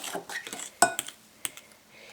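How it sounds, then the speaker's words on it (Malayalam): Plum cake batter is stirred in a bowl with a metal spoon, producing irregular clinks and scrapes against the bowl, a few sharper knocks standing out, close and fairly clear. "ഇതൊന്ന് നന്നായി ഇങ്ങനെ മിക്സ് ചെയ്ത് കൊടുക്കുക"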